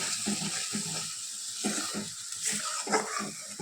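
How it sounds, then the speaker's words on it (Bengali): Chicken pieces dropped into a pan of fried spice masala, sizzling and hissing steadily with a watery, bubbling crackle that swells in short bursts, close by. "মশলাটা কষানো হয়ে গেছে এখন চিকেনটা দিয়ে দেবো"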